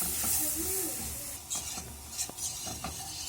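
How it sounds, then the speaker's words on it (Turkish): Flour roasts in melted butter in a pot as a utensil stirs it, giving soft scraping strokes and a faint sizzle, close and quiet, with no speech. "Şimdi unumuzu koyuyoruz. Bununla birlikte biraz kavuracağız kokusu çıkana kadar."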